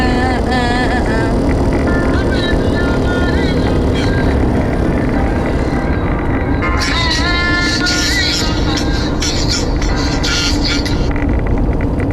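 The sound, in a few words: car driving on a road trip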